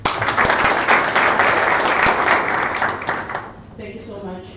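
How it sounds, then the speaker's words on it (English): Audience applause at a business gathering, a loud, dense burst of clapping that holds steady for a few seconds, then fades out as a voice begins speaking. "Another round of applause."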